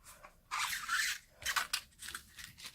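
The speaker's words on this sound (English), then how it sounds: "Oh, just need to cut on the side." Scissors cutting paper for a handmade travellers notebook, a long close snipping stroke followed by several shorter quick cuts, crisp and alone without speech.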